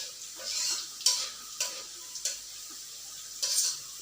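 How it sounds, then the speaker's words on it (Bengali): Garlic frying in hot oil in a pan: a soft, steady sizzle up close, punctuated by about five sharp scraping stirs of a utensil against the metal, with no voices. "রসুনগুলো তেলের মধ্যে ভালো করে ভেজে নেওয়া হচ্ছে খুব সুন্দর করে।"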